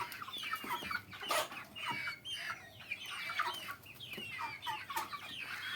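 A flock of village chickens clucks and squawks busily before feeding, many overlapping calls close by with steady excited chatter throughout.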